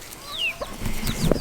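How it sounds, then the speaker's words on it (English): A mother hen on a farm gives soft clucks and low calls beside her last chick, with chirps overhead and a louder cluck near the end. "this mama chicken right here, that is her last chick"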